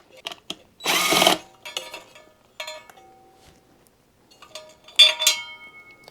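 Shipping screws are unscrewed from a ceiling fan motor with a tool, giving a loud whirring burst followed by scattered clicks, metallic clinks and short ratcheting sounds, with silent gaps in between.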